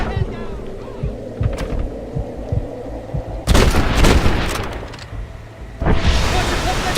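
Gunfire in the video game Red Dead Redemption: loud bursts of shots and booming blasts erupt midway and again near the end, over a low throbbing game background, with a voice speaking.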